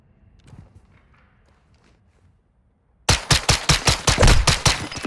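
Rapid video game gunshots, about ten loud evenly spaced shots fired in a quick burst, come in abruptly after a few seconds of quiet, faint talk.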